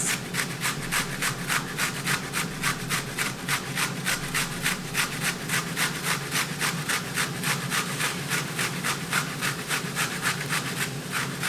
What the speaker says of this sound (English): I'm going to use a cheese grater with the onion